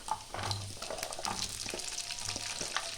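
Onions drop into a hot pan for a Bengali-style mushroom chilli and fry with a close, crackling sizzle, with a few stirring scrapes and clinks over the steady frying noise.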